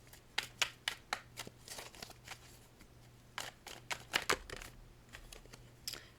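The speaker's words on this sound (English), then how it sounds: "Let's get a few more cards on that middle section." Tarot cards dealt one after another onto a table, a run of quick, close papery snaps and slides at an uneven rhythm with short pauses between, no voices.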